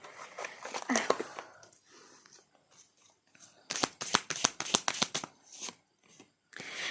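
Tarot cards slapped down forcefully on a table, a cluster of sharp rapid snaps midway after softer rustling and handling at the start, close and crisp.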